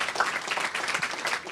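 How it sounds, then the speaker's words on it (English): A round of audience clapping for three panelists at a diversity event, moderately loud and continuous, a crowd of many hands with no talk over it. "maybe just one more round of applause for all three panelists."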